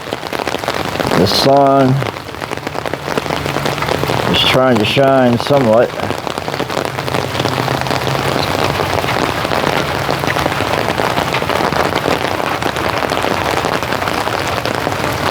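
Steady, loud summer evening rain pours on surfaces throughout, a dense close patter that never lets up, while a voice speaks briefly over it.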